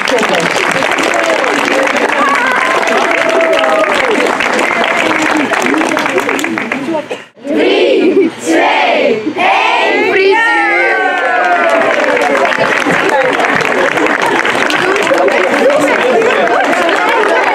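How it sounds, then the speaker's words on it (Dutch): A school audience at the outdoor-certificate ceremony for Het Natuurrijk primary school in Vilsteren applauds loudly and steadily. It briefly dips and breaks into scattered cheers and chatter, then swells back into dense, continuous clapping. "En dan mogen jullie een heel groot applaus geven voor deze toppen."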